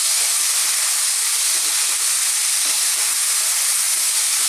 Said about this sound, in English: Now let's just cook this for about 3 to 4 minutes on this medium or just above a medium heat, stirring all the time